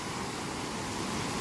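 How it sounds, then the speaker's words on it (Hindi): Steady, broadband rushing water of Barua Sagar waterfall near Jhansi, a constant hiss and roar with no pauses, close by. "अरे यार क्या मस्त झरना है"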